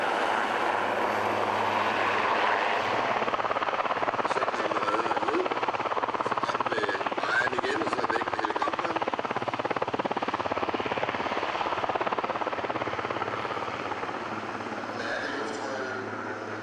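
Engines of a Sea King helicopter roar continuously with a dense turbine whine and rotor rumble, loud and steady throughout, fading slightly near the end.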